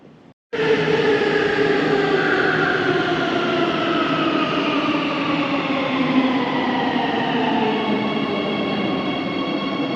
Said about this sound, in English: This is my metro right here